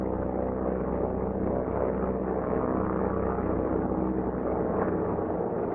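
A feathered C-47 propeller windmilling as the engine is restarted, a steady low drone with dense rumbling harmonics that holds constant throughout and sounds close, with no speech over it.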